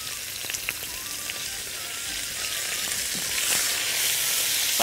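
Chicken gizzards frying in a spoonful of oil in a pan, a steady bright sizzle with scattered pops that builds slightly louder, no talking.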